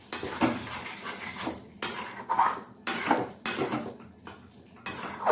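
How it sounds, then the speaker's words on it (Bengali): A spoon scrapes and clatters against a pan while ridge gourd curry thickened with rice paste is stirred, sharp metallic strokes repeating every second or so, close and fairly loud. "সুন্দর করে টেনে এটাকে নেড়ে নিচ্ছি"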